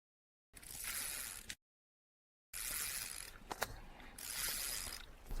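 Ratcheting clicks of a Soviet-era DIY fishing reel as its drag is loosened and line is paid out, in two bursts separated by a gap of silence, close and steady with a few sharper ticks.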